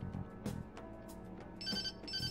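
A phone rings in the video game Persona 5 with a repeated electronic ringtone. It comes in short bursts, and brighter trilling tones join toward the end.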